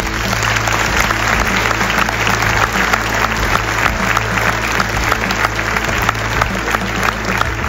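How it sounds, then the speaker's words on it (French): Loud, dense applause from a large audience at a mayor's New Year reception celebrating culture, sustained and even throughout with a steady low hum beneath the clapping. "Vous pouvez les applaudir, ils le méritent"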